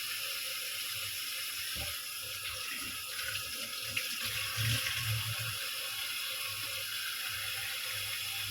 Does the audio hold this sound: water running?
yes